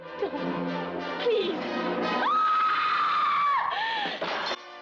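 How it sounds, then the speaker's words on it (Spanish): A scream rings out over a murder in the shadows in a classic film. After brief rustling, it rises sharply, then holds one loud, sustained, piercing note for about two seconds before cutting off. "El grito perfecto frente al asesinato en la sombra anuncia la sucesión de muertes"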